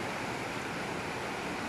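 Flooded Bulatukan River rushing past, a dense steady roar of churning water filling the whole moment, loud and close with no voices.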